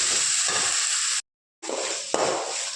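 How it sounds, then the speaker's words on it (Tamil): Chopped tomatoes sauté in a hot pan for egg curry, giving a steady close sizzle and hiss that cuts out briefly and returns, with a small clink near the end. "தக்காளி போட்டு நல்லா வதக்கி விட்டுக்கோங்க."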